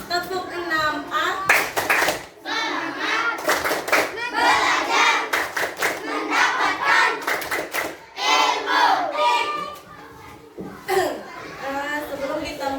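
Primary schoolchildren of class 6A perform a rhythmic class clap in an Indonesian classroom, sharp bursts of group clapping alternating with children's chanting voices, loud and close, with some laughter.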